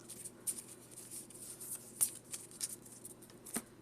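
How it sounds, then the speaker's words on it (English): Pokemon TCG cards shuffled into a deck by hand: a quiet run of soft riffling and card snaps, with a few sharper flicks standing out, close and alone. "Now on this side we have to shuffle these into the deck as well"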